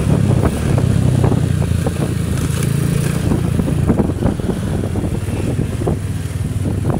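A Rusi Sigma 250 motorcycle engine runs loud and close, a steady throaty rumble with pulsing revs and road noise throughout, no speech.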